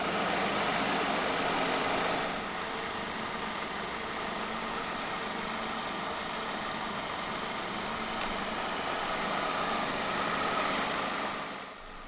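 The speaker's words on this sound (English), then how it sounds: "Underneath the bonnet of this Focus lies a 2-litre dual overhead cams, 16 valves Duratec inline-4 engine." A 2009 Ford Focus 2.0 Ghia with a 2-litre 16-valve twin-cam Duratec inline-4 idles evenly, a steady close engine hum and whir that dips slightly after two seconds and holds without talk.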